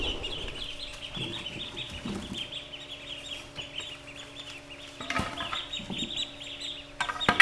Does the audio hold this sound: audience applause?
no